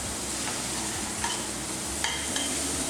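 A spoonful of pesto is stirred into a hot cooking pan, giving a constant close sizzle with soft scraping and a couple of brief utensil taps partway through.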